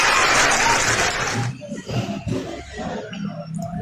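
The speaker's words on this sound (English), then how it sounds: "Clap for him." Audience applause bursts loud and dense at first, then cuts off as someone speaks over the room.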